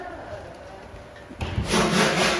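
Someone packs a 2x2 15-inch bass speaker set into a box, making close scraping and rubbing noises that grow louder and denser toward the end.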